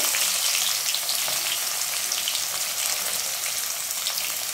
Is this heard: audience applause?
no